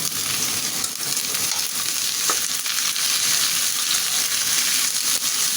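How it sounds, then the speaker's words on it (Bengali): Eggplant goes into a pan of frying onions and chillies, producing a constant close sizzle with scattered stirring scrapes and taps. "পেঁয়াজ মরিচ আমার সুন্দরভাবে ভাজা হয়ে গেছে এখন আমি বেগুনটা দিয়ে দিলাম"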